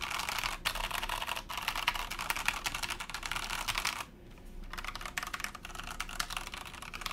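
Rapid clacking of typing on a stock Norbauer x Originative aluminium TKL mechanical keyboard with unmodded stabilizers, close and steady keystrokes with a brief quieter pause midway.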